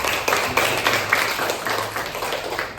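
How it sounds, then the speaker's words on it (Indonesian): A class of students clapping their hands together at a teacher's prompt during a religious studies lesson, a dense burst of overlapping claps with steady broadband patter lasting several seconds. "tepuk tangan dulu semuanya"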